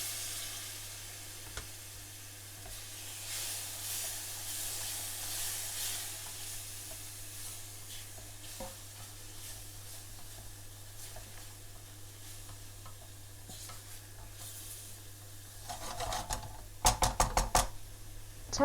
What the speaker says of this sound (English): Allow to fry for a minute or two, stirring every now and then to allow the spices to infuse.